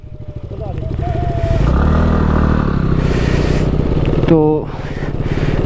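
Motorcycle ride on a road in India, a steady close engine drone with wind running throughout, someone speaking briefly over it, and a short rising horn-like tone near the end.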